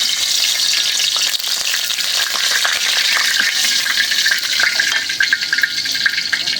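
Two cardamom pods, two cinnamon sticks and a bay leaf hitting hot oil in a wok-style pan, giving a loud, continuous crackling sizzle up close, dense and unbroken throughout, with no voices.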